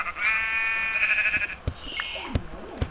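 Sheep in a video game bleat close and loud in a drawn-out wavering cry, followed by a second shorter bleat and a few sharp clicks and thumps.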